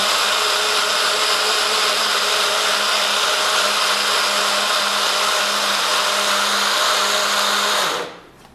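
A blender runs loud and steady, churning a smoothie of pineapple, spinach and basil with a constant high whir for about eight seconds, then spins down and cuts off near the end.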